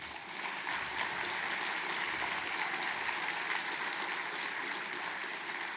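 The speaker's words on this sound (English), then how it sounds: "let's give them a round of applause as well" A banquet audience at an awards evening gives a sustained, even round of applause, a soft, steady wash of many hands clapping without pause and no speech on top.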